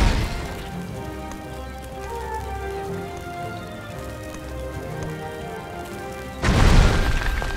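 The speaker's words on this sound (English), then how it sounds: "Fiona can light the fuses on those bombs. Kaboom!" A bomb goes off in the Shrek Forever After video game on Xbox 360: a single loud, sudden blast near the end, following a stretch of quieter game music and ambience.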